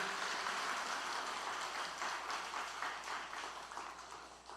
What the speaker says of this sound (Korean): 박수로 하는 것은 감사한데